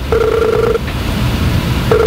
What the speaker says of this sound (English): I hear a telephone ringing.